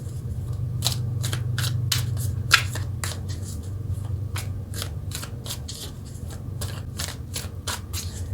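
Tarot cards being shuffled by hand in a series of quick, crisp riffles and flicks, close up, with a steady low hum beneath and no talking.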